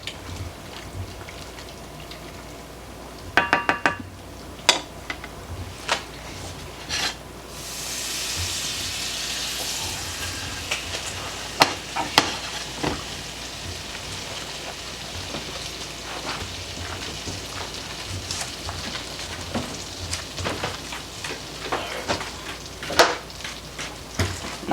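Butter melting and sizzling in a pan, heard as a continuous soft crackling hiss with scattered pops and louder spits, close and steady without talk.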